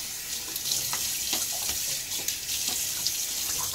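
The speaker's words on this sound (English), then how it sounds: "water on my face" Water runs steadily from a bathroom tap into a sink during a wet shave, with faint splashes as it is scooped onto the face, close and continuous.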